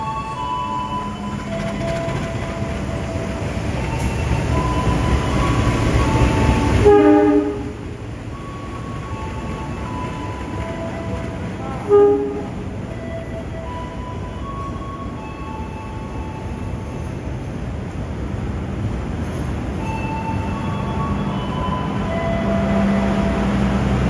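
A Bangunkarta passenger train pulls into a station with a steady, loud rumble of wheels and cars rolling past, a brief clank partway through, and faint tonal notes that may be its horn.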